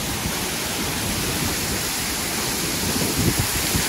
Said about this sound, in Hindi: ये झरना देखिए गाइस कितना शानदार झरना है इधर